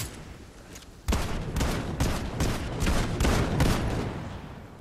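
Rapid bursts of gunfire in the video game Fortnite, a string of sharp loud shots in quick succession, each with a broad crack, close and dominating.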